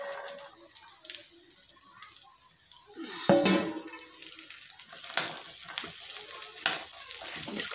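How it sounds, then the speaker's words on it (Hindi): Peas fry with spices in a hot pan, a steady close sizzle broken by the scrape and clatter of a spoon stirring, with a louder burst of stirring partway through and the frying carrying on alone without talking. "थोड़ी देर तक हम इसे भूनेंगे ताकि अच्छे से ये भून जाए।"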